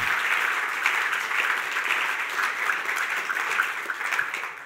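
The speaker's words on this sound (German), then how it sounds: "Geben wir ihnen einen lauten Applaus aus dem Kalkofen raus." Loud, sustained applause from a church congregation, a dense steady wash of clapping that holds evenly for several seconds without any talk.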